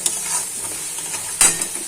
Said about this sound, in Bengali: পেঁয়াজটা আমার মোটামুটি ভাজা হয়ে গেছে দেখুন বাদামি কালার চলে এসেছে